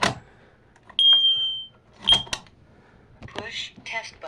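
A smoke alarm with a dying battery gives a high electronic tone, then a short chirp a moment later, with a person talking around the beeps.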